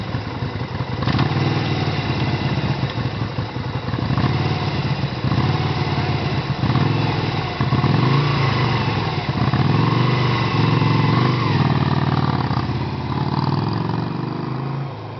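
A top-heavy, Harley-like motorcycle engine runs steadily and fairly loud nearby, a low even throb with slight rises and dips in revs throughout, no talk over it.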